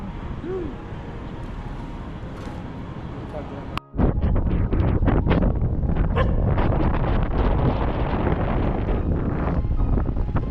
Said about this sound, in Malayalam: അപ്പോൾ അതേ നല്ല കാറ്റ് വീശുന്നുണ്ട്